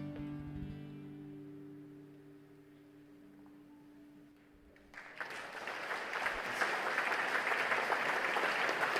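Crowd applause for a performing group at a festive evening of a church federation congress, a broad roar of clapping swelling in after the song's final sustained notes fade and continuing strongly.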